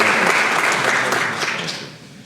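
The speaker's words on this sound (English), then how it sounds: "Give him a round of applause." Audience applause at a small business recognition awards ceremony, a dense burst of clapping that fades out over a couple of seconds, heard alone without talk.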